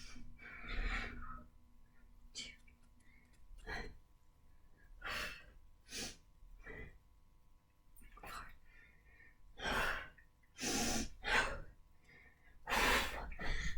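Deep breathing during a beginner chair workout with dips, heard as several loud, breathy exhales and gasps spaced irregularly through the stretch, close to the mic with no clear talk.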